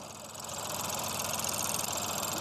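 A Ford Fiesta 1.0 engine runs at a steady idle, a close, continuous low rumble with an even pulsing texture, heard alone without voices.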